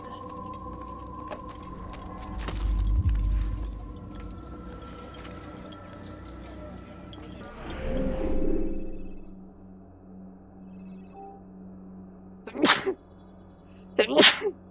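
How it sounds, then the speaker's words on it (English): Two sharp sneezes burst out near the end, preceded by quieter sniffing and shuffling sounds in an otherwise quiet room. "I've been sneezing a bit the past little bit"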